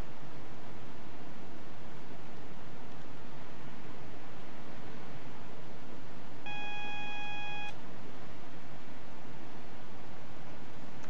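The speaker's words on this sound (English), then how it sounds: "Getting alarms already for the reduction of speed coming up." A steady electronic warning tone sounds once for about a second inside a train cab in Train Simulator 2014 on the Peterborough to London route, over constant loud rumbling cab noise that continues throughout.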